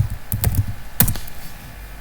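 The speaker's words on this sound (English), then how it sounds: "I just type fastq" Quick keystrokes on a computer keyboard, a short burst of several close, crisp taps in two clusters, then quiet, with no one speaking.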